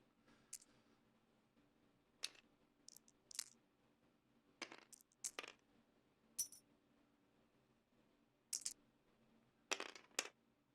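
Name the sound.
dice rolling in a tabletop miniatures game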